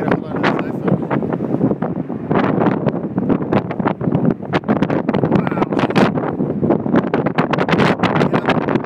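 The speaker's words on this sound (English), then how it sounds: "It's a little windy." Strong gusts buffet an iPhone microphone outdoors in loud, uneven thumps and rumbles, continuous throughout with no clear voices.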